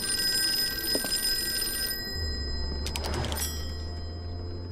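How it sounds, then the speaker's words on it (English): An electronic phone rings in short bright bursts in the video game Call of Cthulhu, with a low steady hum and background game ambience underneath; no one speaks. "The phone was ringing."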